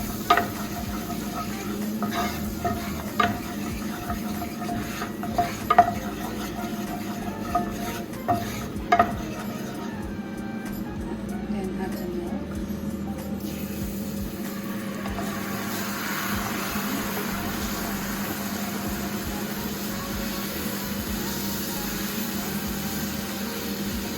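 A spoon stirs flour into a sizzling pan of broccoli and cauliflower, with steady frying hiss under intermittent scraping and clinks of the utensil against the pan.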